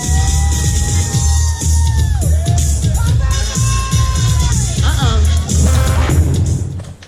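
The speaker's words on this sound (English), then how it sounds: "So make some noise for George." Loud crowd at a pool party in Bimini cheering, whooping and yelling across several seconds, with whistles and shouts layered over thumping party music.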